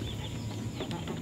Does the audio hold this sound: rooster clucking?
yes